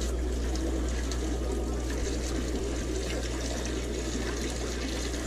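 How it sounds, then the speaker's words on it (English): Water siphons steadily out of a fish tank through a hose with a continuous close gurgling rush under a low constant hum, heard alone. "it's just creating the siphon and pulling everything out"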